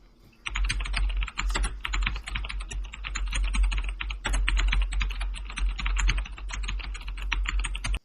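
Rapid, steady clatter of keys on a computer keyboard as an Aadhaar card number is entered, close and clear with brief pauses between bursts, no voices.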